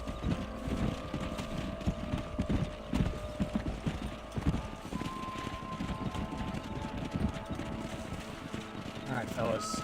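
Herd of horses running in Red Dead Redemption 2, a steady rolling clip-clop of many hooves throughout, mixed with ambient noise and someone talking over it.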